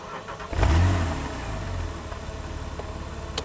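A Porsche 911 997.2 Carrera S engine accelerates, rising to a loud, close rev surge about half a second in, then settling into a steady engine drone with no talking.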